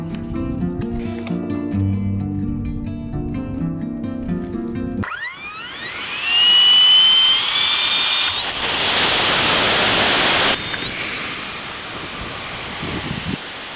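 An RC Sea Harrier model jet engine spooling up for takeoff, with a rising high-pitched whine that climbs in steps into a loud, steady hissing roar, close by.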